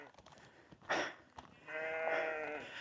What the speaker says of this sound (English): Follow the sheep.